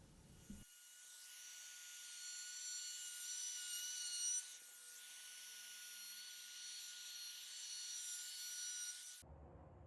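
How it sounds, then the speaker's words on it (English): A small chamfer being cut along the bottom edge of a scrap-wood side table's top panel, a continuous steady whirring tool sound with a high whine, heard alone at moderate level. "Lastly, before finish, is just adding a small chamfer all around the bottom edge of the top panel."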